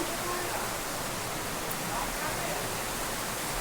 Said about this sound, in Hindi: पानी गिर थे, इधर पानी गिरा थे